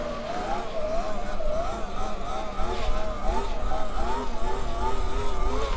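An E-Ride Pro SS 2.0 electric motorbike being ridden in a wheelie, giving a steady whine that rises and falls in pitch with the throttle and stays fairly loud and close the whole time, with voices now and then over it.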